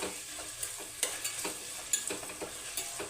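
Onions frying in a pan as salt is stirred in for a home chicken curry, with a steady soft sizzle under repeated scraping spoon strokes, close up and with no one talking.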